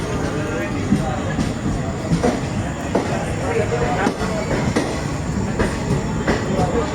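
Tirupati Express rolls out of Udhna junction with ICF coaches, heard from inside as a loud, continuous rumble with rhythmic wheel clatter, while a voice talks over it.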